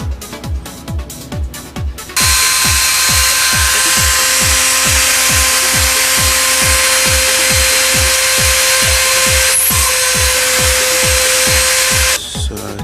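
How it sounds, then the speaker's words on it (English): Drilling holes in a homemade printed circuit board: a small power drill whirs at a high steady pitch, preceded by rapid rhythmic tapping pulses, loud and close. "We'll go take this board now through the drilling process and then the cleaning up."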